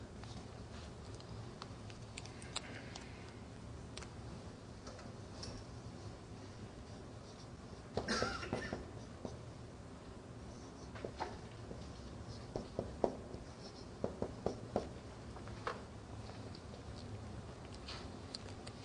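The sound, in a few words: writing on a board during a lesson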